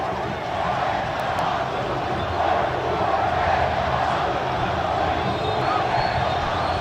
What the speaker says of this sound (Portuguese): Atenção à reação da torcida ao apito final